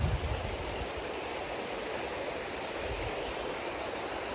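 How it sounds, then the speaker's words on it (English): A river flows in a steady, close rush of broadband water noise that stays even throughout, with no voices over it. "Not sure how well you can hear me versus the actual river"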